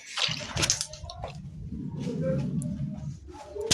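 Water runs and splashes close by during washing up after a table is cleaned, a steady rushing stream with small spatters and clinks on top, faint voice-like sounds mixed in.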